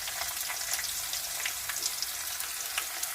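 Garlic and small shallots frying in hot oil with mustard seeds, a steady, close crackling sizzle full of quick pops and spits, with no voices.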